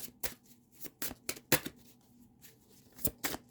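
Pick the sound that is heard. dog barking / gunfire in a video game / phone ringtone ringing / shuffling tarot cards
shuffling tarot cards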